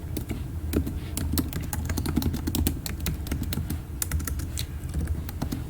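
Rapid, close keystrokes clatter on a computer keyboard as code is typed for a Flutter and Firebase authentication app, an uneven but continuous run of sharp clicks with no talking.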